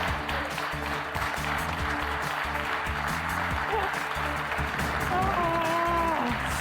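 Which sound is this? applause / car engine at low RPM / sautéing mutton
applause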